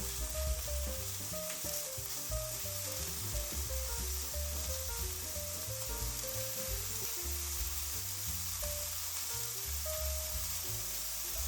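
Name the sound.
mushrooms sizzling while pan-frying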